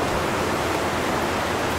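Water rushing through an underground river in a cave near Cusco, a loud, steady, broadband roar that fills the space continuously with no voices.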